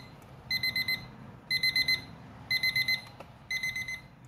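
A Japanese alarm clock rings in four evenly spaced bursts of rapid, bright electronic beeps, each lasting about half a second with short gaps between, loud and close over a faint background hum.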